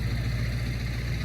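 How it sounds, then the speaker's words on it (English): A loud truck engine rumbles steadily nearby, a low droning idle with a throaty hum that holds at an even level the whole time. "loud truck."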